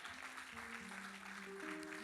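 A church congregation applauding, a faint steady patter of many clapping hands under sustained organ or keyboard chords, heard briefly and at low volume.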